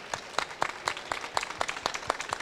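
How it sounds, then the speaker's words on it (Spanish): Scattered claps from a small audience at a round-table panel during a flower trade fair, a sparse, uneven rhythm of distinct individual hand claps rather than a full ovation. "si os pido que os pongáis en pie y les demos un fuerte aplauso"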